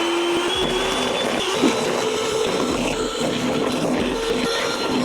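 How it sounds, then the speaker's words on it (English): Sugar and three large eggs whisked together with an electric mixer, giving a loud, steady motor whirr that runs without a break and is not covered by any talk. "and I just need to whisk that."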